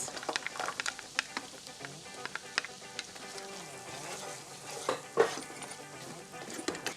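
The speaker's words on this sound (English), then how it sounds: "Going in with our carrots." Carrots tossed into a hot frying pan with ginger for quinoa fried rice, a sizzle under repeated stirring and scraping clicks, with a few sharper utensil knocks against the pan.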